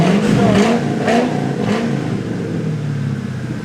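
A 2001 Ford Mustang GT race car engine revs loudly and close up, rising and falling through several throttle blips before settling into a rough, steady idle, with no voices.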